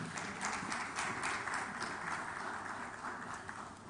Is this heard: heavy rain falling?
no